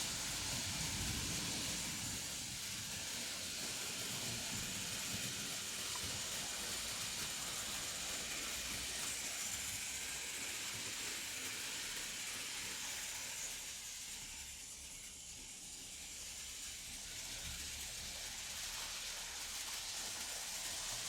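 Märklin 3082 DB BR41 model steam locomotive with a smoke unit running steadily, a continuous bright hiss and rushing mechanical noise with low rumble, dipping briefly before building again.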